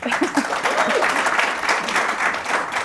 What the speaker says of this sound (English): Give her a round of applause, come on